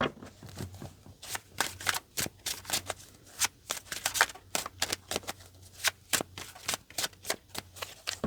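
Tarot cards shuffled in a quick riffling run of crisp snaps and flutters, close and fairly quiet, repeating steadily with brief pauses between bursts.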